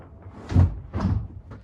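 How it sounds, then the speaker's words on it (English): Tool cabinet doors swing open in a home tool shop, two muffled wooden thumps close together followed by a faint knock, heard up close with no talking. "Now we have just enough clearance for the doors to open."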